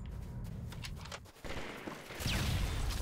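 Short volley of gunfire in Halo 3 on the Sandtrap map during a Slayer match, a few sharp shots followed by a louder rush of blasts and explosion noise near the end.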